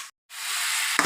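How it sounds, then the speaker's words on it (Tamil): Onions sautéing in a pan for an egg gravy, a steady close sizzle after a brief gap, with a soft stirring scrape near the end. "நல்லா வதங்கிட்டு இருக்கு வெங்காயம்."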